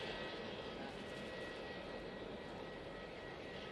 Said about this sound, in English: Dreamliner popping over now